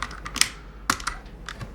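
Keys being pried off a mechanical keyboard make a few sharp plastic clicks and snaps at irregular intervals, close up and fairly quiet, with nobody talking.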